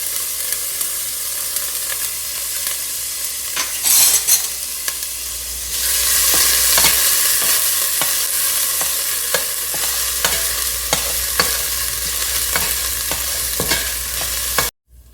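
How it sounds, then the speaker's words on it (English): Garlic and ginger sautéing in a pan for a Sri Lankan-style tinned jack mackerel curry: a steady loud sizzle that swells partway through, with repeated scrapes and clinks of stirring. "Then I'm gonna go right in with our garlic and ginger."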